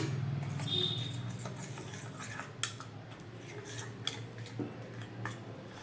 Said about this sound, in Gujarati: અને પાણી નાખી અને સ્લરી રેડી કરી લેશું